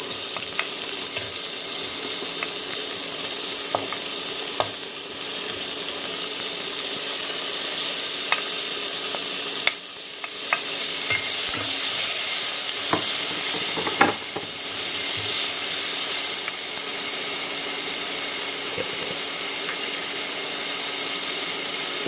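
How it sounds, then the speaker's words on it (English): Onions sizzle and fry steadily in a pan for a vegan jackfruit-seed curry, a continuous close hiss broken by occasional clicks and stirring scrapes of a utensil. "We're gonna add our onions."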